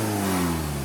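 The supercharged engine of a track car revs in a brief, loud, steady burst.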